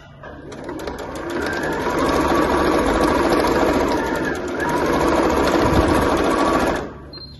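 A sewing machine runs steadily for about six seconds, stitching the seam of a small fabric drawstring bag, loud and close with a rapid mechanical rattle, then stops abruptly.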